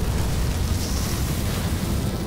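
A cartoon fire roars up in a continuous loud whoosh of rushing, crackling noise that holds steady throughout.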